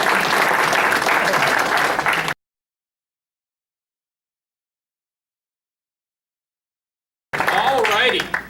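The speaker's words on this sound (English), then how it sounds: "a big round of applause for all of our folks." Audience applause at a youth in government event, loud dense clapping that cuts off abruptly, then a long silent gap before the applause returns just as loud.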